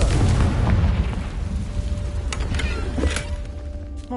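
The Confringo blasting spell in the Hogwarts Legacy video game detonates as a deep rumbling boom, followed by crackling bursts and scattered sharp pops as the blast settles.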